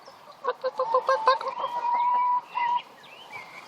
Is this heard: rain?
no